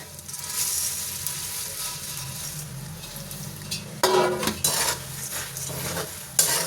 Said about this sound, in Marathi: आता आपण या लाया याच्यामध्ये ॲड करून घेऊयात